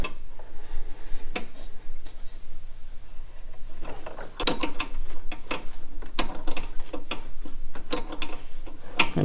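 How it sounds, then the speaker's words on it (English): A 10mm wrench works a nut loose to back out a carburetor stud on a kids' Arctic Cat ZR120 snowmobile, sounding as close ratcheting clicks that speed into a rapid irregular run of sharp ticks. "use the nut closer to the carburetor to go lefty-loosey and pull this whole stud out"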